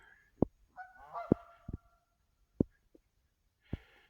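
Geese honk in several loud, separate calls with short pauses between them, close by in an otherwise quiet outdoor setting.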